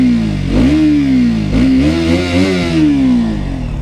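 A KTM RC 200 BS6 motorcycle engine revs up and down repeatedly, its exhaust note rising and falling in loud, close bursts with a gritty, buzzing character.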